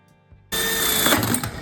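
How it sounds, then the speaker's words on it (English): After a brief quiet click, a power drill starts abruptly and whines steadily at high speed, loud and close, bit grinding as it bores into wood. "Getting ready to drill it out"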